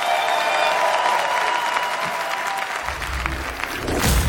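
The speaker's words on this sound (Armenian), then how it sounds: "Ծափարում ենք բարձր" A studio audience at a singing game show breaks into sustained loud applause, a dense even roar of clapping lasting several seconds with a low rumble rising near the end, with no talk over it.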